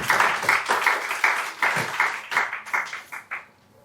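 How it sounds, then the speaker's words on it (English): A small workshop audience claps in a brief burst of applause that quickly thins out into a few scattered claps before fading away. "Please, another round of applause."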